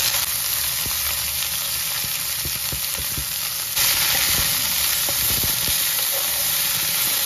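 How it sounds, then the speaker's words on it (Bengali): Chopped red amaranth greens fry in hot mustard oil with dried chilli and nigella seeds in a wok, giving a loud, steady sizzle and hiss with scattered stirring scrapes and clicks throughout. "শাকটা এবার একটু হালকা ভাজা ভাজা করে নেব।"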